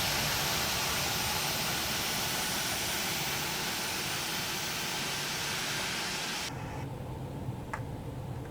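Simulated CFM jet engines of a ToLiss A319 in X-Plane 11 roar as a steady broadband rush, then drop abruptly to a quieter, thinner hum near the end.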